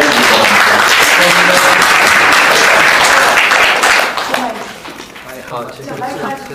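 Loud applause from a general meeting crowd welcoming an arriving guest, dense and sustained for about four seconds before thinning into scattered claps with murmuring voices.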